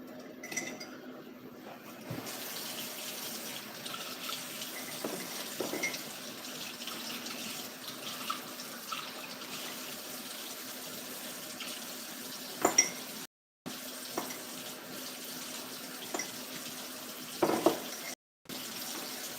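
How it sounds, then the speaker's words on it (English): Water poured into a paint cup during a clay art craft session, a faint, soft trickle and splash close by, with occasional light clinks and brief pauses, under quiet room tone and no talk. "I'm just putting some water into my paint cup."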